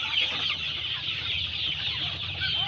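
A flock of 45-day-old chickens in a poultry shed clucks and chatters continuously, a busy overlapping murmur of many birds close by, without human speech.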